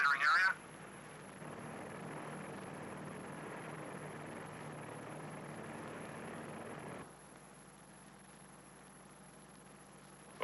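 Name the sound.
P-2V aircraft flying over nuclear test area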